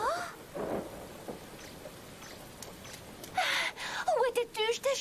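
Rain falls in an anime episode of Fairy Tail, a soft steady hiss forming a bed beneath voices calling out and speaking, with gasps and exclamations breaking in near the end.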